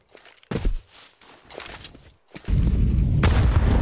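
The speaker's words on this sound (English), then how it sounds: "Deep nade. Good damage onto Apex." A grenade explosion in a Counter-Strike match at IEM Katowice 2025, coming after a few scattered thuds and footsteps, then a loud, close blast at about the midpoint that swells into a sustained rumbling roar.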